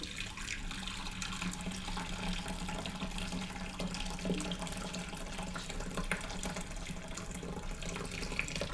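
Liquid pours slowly and steadily into a container while making basic goat cheese with vinegar, a continuous soft trickle with no talking.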